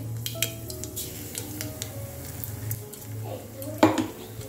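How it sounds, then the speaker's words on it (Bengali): Parched kalai lentils frying briefly in oil with panch phoron spices, a close, steady sizzle broken by light scrapes of a utensil stirring the pan, with a low hum underneath. "পাঁচফোড়ন দিয়ে ডালটা দিলাম, একটুখানি ভেজে নেবো"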